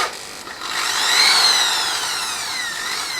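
Drilling out a stripped thread with an 8.3 mm drill bit, a short loud whirring grind that rises and shifts in pitch over a few seconds, close up and alone.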